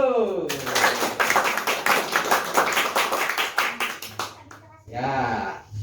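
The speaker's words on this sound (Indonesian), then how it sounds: "Tepuk tangan dulu." A small audience at a youth gathering claps in a quick, uneven patter of individual hands, close and fairly loud, tapering off as a voice speaks over the end.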